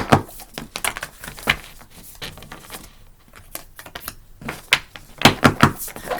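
Tarot cards being shuffled by hand, a run of quick papery riffles and flicks that come in bursts with short pauses, close and fairly loud, with no speech.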